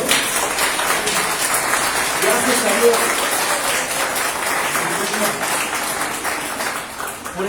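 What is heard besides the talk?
congregation applauding in church service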